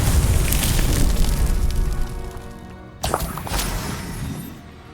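A Confringo blasting spell erupts in Hogwarts Legacy, a loud rumbling explosion with a fiery roar that fades, then a second sharp burst at about the three-second mark, with no talking.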